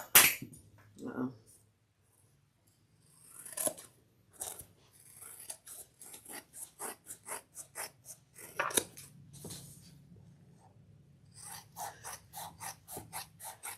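Scissors snip repeatedly through floral fabric being trimmed for a sewn car trash can, a run of close, crisp cuts in quick rhythmic bursts with pauses and faint room noise between.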